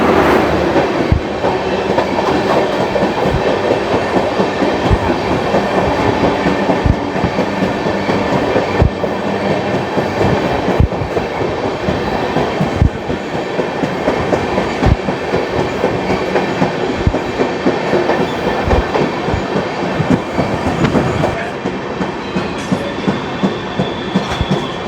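The Tamil Nadu Sampark Kranti Express runs at speed past Mathura Junction while overtaking the Millennium Express, a loud steady rumble with rhythmic wheel clatter and occasional clunks, heard close from aboard.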